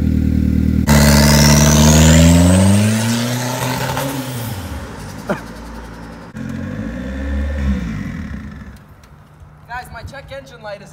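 A turbocharged Honda CR-V engine fitted to a homemade kart revs hard and climbs in pitch on a launch, loud and close, then fades as the kart pulls away while people talk.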